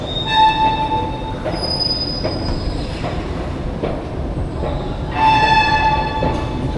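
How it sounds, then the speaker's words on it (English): A squeaky escalator in need of grease at an airport terminal, giving sustained high-pitched squeals and screeches over a steady mechanical rumble, swelling louder near the start and again toward the end. "somebody needs to add a little bit of grease to this escalator"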